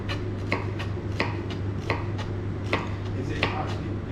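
A knife chops vegetables for a rough-cut mirepoix on a cutting board, about a dozen evenly spaced sharp knocks close by, over a steady low kitchen hum.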